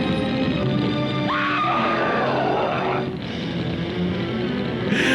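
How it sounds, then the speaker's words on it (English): A dubbed scream from the 1962 horror film The Brain That Wouldn't Die, a shrill rising wail over a noisy, hissing soundtrack that lasts a couple of seconds before cutting off abruptly. "I love the ADR scream."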